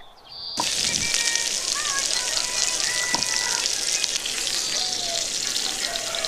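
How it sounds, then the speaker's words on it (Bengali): Pointed gourd frying hard in oil in a wok, a loud steady crackling sizzle that starts abruptly and carries on continuously, close up, with no talking. "পটলটা একটু লাল লাল করে ভেজে নেব বেশ কড়া করে"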